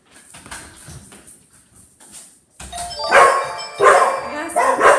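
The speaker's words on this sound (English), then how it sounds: "She went out and rang the doorbell. She knew they were gonna bark." A doorbell chimes, then several dogs bark loudly in quick bursts, with people talking and reacting in the background.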